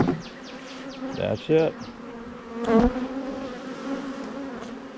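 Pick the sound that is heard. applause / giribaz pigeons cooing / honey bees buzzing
honey bees buzzing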